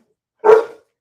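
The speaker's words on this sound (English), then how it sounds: "Another dog." A single sharp, loud dog bark sounds close by, alone against silence.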